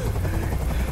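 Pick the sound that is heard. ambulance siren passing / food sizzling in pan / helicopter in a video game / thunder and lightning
helicopter in a video game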